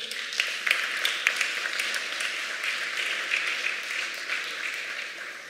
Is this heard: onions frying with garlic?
no